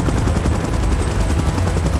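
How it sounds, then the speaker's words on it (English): A helicopter in the PUBG video game makes a loud, steady rotor thrum with dense low chopping throughout, no voices over it. "Chopper in position."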